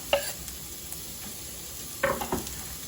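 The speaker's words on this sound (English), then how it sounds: "we are going to add, dun dun dun, our onions and our garlic" Onions and garlic drop into a pan holding sauce and cooking bits, giving two short soft sizzling clatters over a steady low kitchen hiss.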